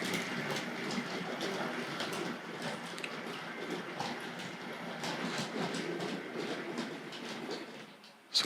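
A Hornby 00 gauge GWR pannier tank model locomotive runs around a track loop, giving a steady whirring rumble with faint rhythmic clicks from the rails, close and continuous until a sudden thump at the end.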